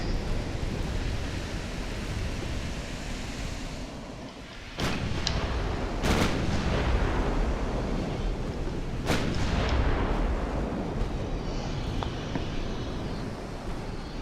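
Naval artillery shells firing in a battle from an early-1900s Japanese strategy game campaign: several heavy, sharp booms break through a constant loud roar of battle noise, with no talking.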